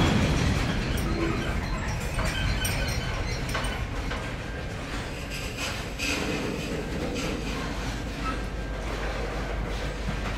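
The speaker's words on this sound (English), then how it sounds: "he's only got two locomotives on this train" A long freight train hauled by two locomotives, a CN leading and a second unit behind, rolls past close by with a steady rumble and rhythmic clatter of wheels over rail joints, no voices.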